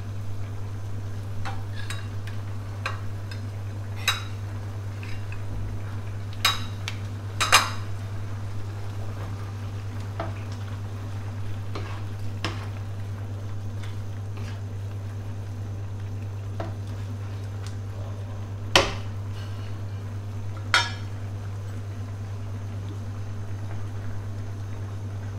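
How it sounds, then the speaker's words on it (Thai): Red curry paste, Mae Pranom brand, stirred into a pot of curry with grilled pork neck, heard as a steady low hum and faint simmer with scattered soft scrapes and taps of a utensil against the pot, no talking. "ก็ผสมให้เข้ากันเลยนะครับ"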